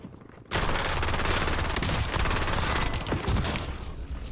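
Dense, continuous automatic gunfire from a first-person shooter video game, a loud sustained barrage starting abruptly after a brief quiet moment and running to the end with only slight dips.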